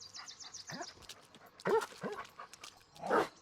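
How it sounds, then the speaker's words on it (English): A dog in the Blair Witch video game makes short barks and whimpering sounds, fairly near and moderately loud, separated by brief quiet gaps. "Get it, dog?"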